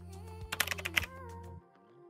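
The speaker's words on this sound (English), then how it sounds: "Now add a typewriter sound effect for better preview." Typewriter typing sound effect: a short rapid burst of sharp mechanical key clacks lasting about a second, set over a sustained musical tone that fades out shortly after.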